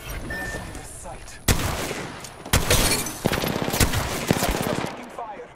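Loud bursts of automatic gunfire from an Apex Legends match hit in repeated heavy volleys with sharp cracks between them, and brief in-game voice chatter sits underneath.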